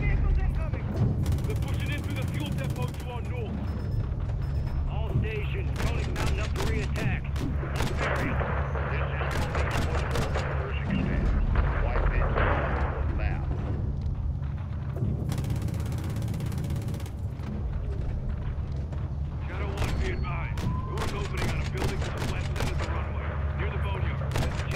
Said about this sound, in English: Who's shooting missiles at me?